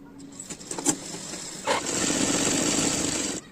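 Sewing machine stitching the border of a nightie, a short close whirring run after a few scattered clicks, with no one talking.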